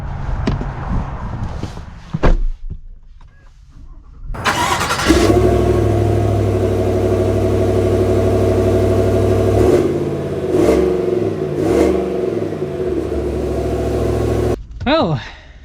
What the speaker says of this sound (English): Let's drive it.